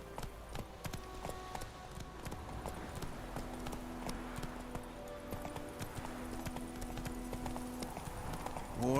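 Roach, the horse ridden in The Witcher 3: Wild Hunt, trots along with a steady clip-clop of hooves over a low ambient bed, moderately close and continuous throughout.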